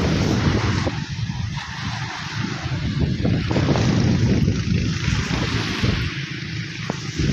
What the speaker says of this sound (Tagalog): Sarap na hangin, ang lamig.